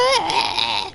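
A voice imitates the squeaky horn of Class 33 diesel locomotive 33202 with a single high, strained squeal that bends upward and then holds steady for about a second.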